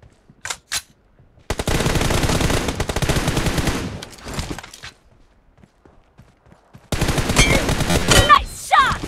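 Bursts of video game gunfire from a shooter match, with loud sustained automatic fire in two long stretches and a few short shots near the start, separated by a quiet gap.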